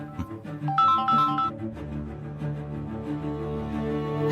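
A phone ringtone plays in a Malayalam TV drama scene, a melodic tone sequence followed by a sustained ringing pattern that continues steadily to the end.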